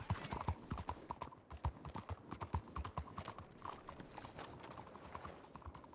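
Horse hooves in a video game clip-clop in a quick, steady rhythm, quiet and continuous throughout, with no talking.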